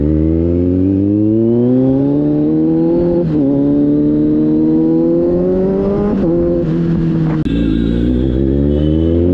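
A Kawasaki Z900 superbike engine revs hard and loud, close to the microphone, in long sustained pulls that rise and dip several times, with a sharper blip near the end.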